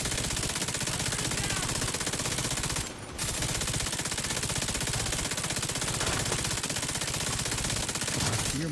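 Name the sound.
exotic LMG machine gun firing in a video game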